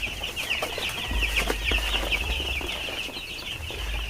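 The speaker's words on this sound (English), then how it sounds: "There are 305 birds in here." Young broiler chickens in a poultry house make a dense, continuous chorus of high peeping and soft clucking, close and steady, with a low background hum and no talking.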